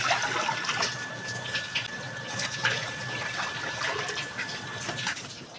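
Water poured steadily into a cooking pot to be boiled, a continuous soft splashing and trickling at close range with faint clinks, no talk.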